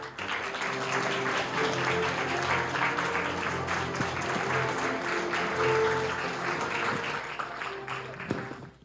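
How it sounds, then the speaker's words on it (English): An audience at a parliamentary forum applauds President Tsai with steady, moderately loud clapping from many people that holds evenly, then tapers off at the end. "A round of applause to President Tsai."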